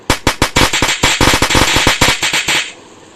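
A rapid string of loud, sharp firecracker pops in a video game, about fifteen close bursts crackling over roughly two and a half seconds before cutting off into a brief quiet tail.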